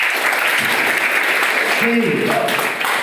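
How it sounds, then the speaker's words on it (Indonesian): Steady applause for an evening class runs throughout, with a voice briefly audible near the end. "Saya tepuk tangan buat kelas malam hari ini."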